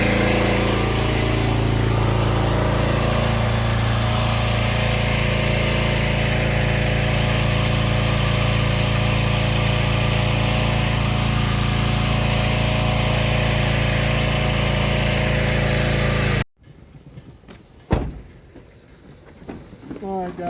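A pressure washer engine cleaning a paver driveway and tile roof holds a loud, constant drone at slightly lowered revs, then cuts off abruptly near the end, leaving sparse knocks and faint handling noises.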